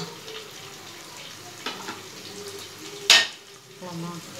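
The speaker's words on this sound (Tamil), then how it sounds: "இதில் நான் மூணு பச்சை மிளகா போட்டுக்கிறேன் இதையும் நல்லா வதக்கிடணும்" Green chilies frying with golden-brown onions in a pan for prawn biryani, a soft steady sizzle with a sharp brief hiss and clatter midway as they hit the hot oil.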